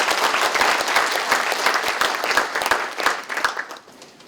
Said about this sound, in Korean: 큰 박수 한번 다시 부탁드리겠습니다